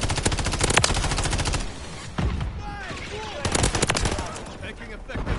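Automatic gunfire in the Modern Warfare 3 beta rattles in dense, rapid bursts, loud and close, fading out midway and then returning in another sustained volley, with some voice chatter mixed in.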